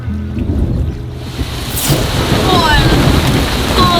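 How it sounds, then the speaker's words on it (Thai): Heavy rain pours at a seaside spot in a fishing village, a loud, steady broadband hiss of downpour and surf that thickens partway through and runs throughout without pause. "ตอนนี้ฝนตกหนักมากแบบมากมากมาก"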